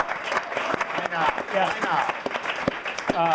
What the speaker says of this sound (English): So round of applause, right?